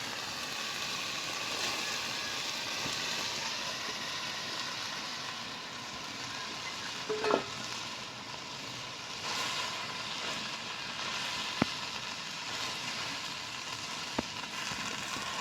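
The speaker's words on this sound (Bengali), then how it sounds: "এবার আমি ভেজে রাখা ঢেঁড়স আলু এর সাথে দিয়ে কষে নেব।" Fried okra and potatoes sizzle as they are stir-fried in spice masala, a constant close hiss with a few sharp clicks and taps from stirring.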